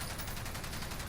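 Sustained automatic fire from the M91 in Call of Duty: Modern Warfare, a rapid, even stream of loud shots in one short, dense burst.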